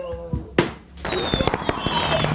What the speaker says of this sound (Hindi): ये देखो बाहर पटाखे की आवाजें आई